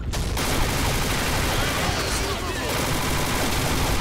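A CZ Scorpion Evo 3 with AI Snow camo fires in a Combat Arms capture-the-flag match. The gunfire is dense and continuous, with rapid bursts packed tightly together and a busy, noisy battle backdrop throughout.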